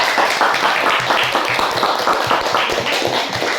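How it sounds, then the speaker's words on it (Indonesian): Many hands clapping together in a steady, lively round of applause from a group, close by, with faint voices mixed in. "Ya, tepuk tangan anak-anak."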